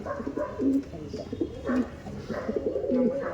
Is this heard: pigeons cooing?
yes